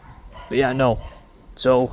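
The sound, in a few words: dogs barking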